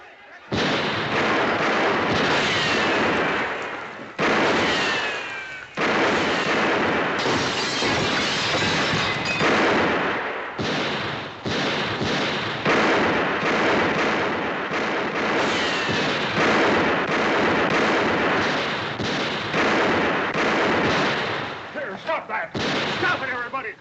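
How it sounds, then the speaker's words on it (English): Gunshots are fired over the heads of a crowd in a western TV drama. Loud, sharp cracks come repeatedly through dense, chaotic crowd noise, with voices shouting throughout. "Let's put a few shots over their heads. That should scatter them."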